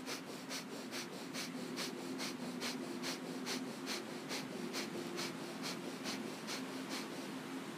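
Rapid, forceful exhalations through the nose during a yoga pranayama exercise, about a dozen sharp, evenly spaced puffs in a quick steady rhythm, close and clear with no talk.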